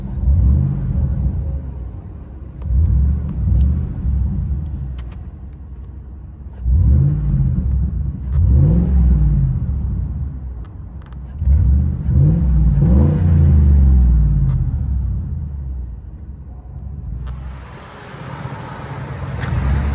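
Heard from inside the cabin, a Ford Expedition former Oklahoma State Trooper car with muffler and resonator removed revs repeatedly, deep booming straight-piped exhaust rising and falling in several loud bursts.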